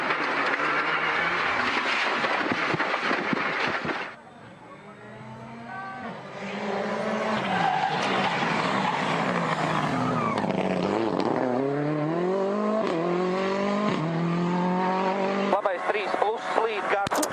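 Skoda Fabia rally car racing on asphalt at the Barum Rally in the Czech Republic, its engine loud and close, revving and changing gears with rising and falling pitch sweeps as it passes.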